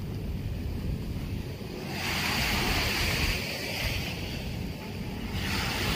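Steady roar of surf with waves washing in and breaking on the Manila Bay shore, mixed with wind rumble against the microphone.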